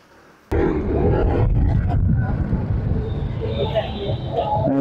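ADX160 motorcycle engine roaring loudly as the throttle is opened, starting abruptly and holding a steady, gritty rumble close by for several seconds.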